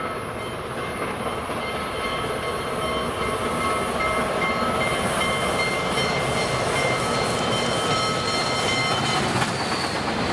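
Southern Pacific 4443 steam locomotive racing past the depot at Patterson in 1957, a continuous loud rumble and rushing roar of the passing train, steady throughout with no voices.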